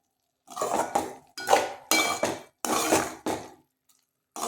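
Raw banana fry stirred in a pan for a wedding-style curry, with a metal spoon scraping and clinking in several loud bursts, then a lid set on the pan, all close by with no talk.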